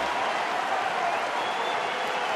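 Big baseball stadium crowd of about 28,000 applauding a strikeout in a Cleveland at Detroit game, a steady, dense roar of clapping and cheering filling the whole stretch without a break.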